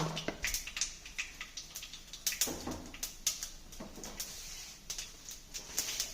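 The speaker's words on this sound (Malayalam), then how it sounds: "കടുക് പൊട്ടുന്നുണ്ട്" Mustard seeds crackle in hot oil in a pan while prawn tamarind curry is being started, with quick irregular pops and sizzling spread across the whole stretch, fairly close and moderately quiet, with no talking.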